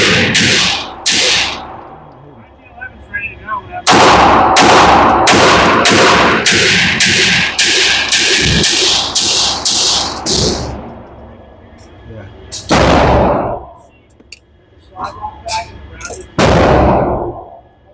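A Kimber Romulus pistol fires at targets on an outdoor range, loud sharp shots coming singly and then in a rapid string of about a dozen, with more bursts after short pauses.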